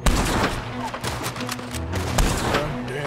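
Dense, rapid gunfire from a shootout in the video game Red Dead Redemption 2 cracks without a break, loud and overlapping throughout.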